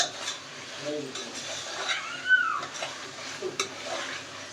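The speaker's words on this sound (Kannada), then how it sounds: "ಚಿಕನ್ ಹಾಕ್ಕೊಂಡು ಚೆನ್ನಾಗಿ ಮಿಕ್ಸ್ ಮಾಡಬೇಕು" Chicken pieces being stirred in a cooker for festive biryani, heard as soft wet scraping and shuffling strokes with a faint sizzle underneath, moderately close, with quiet background voices.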